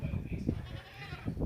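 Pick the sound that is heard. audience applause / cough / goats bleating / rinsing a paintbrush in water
goats bleating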